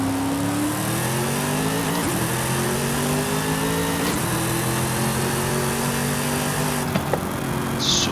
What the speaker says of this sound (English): Super unique sound with this car.